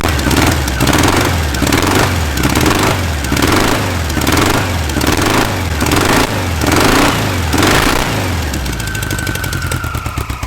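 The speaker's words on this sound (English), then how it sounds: "that's the first time I have ever ran an engine outside of a vehicle" An air-cooled engine runs on a stand outside of any vehicle, loud and close with a steady pulsing chug throughout, easing slightly near the end as a faint tone rises.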